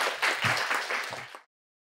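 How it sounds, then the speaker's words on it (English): A short burst of audience clapping at a healthy-aging conference, moderately loud and uneven, breaking off abruptly after about a second and a half. "Let's give him a big applause again for your excellent speech."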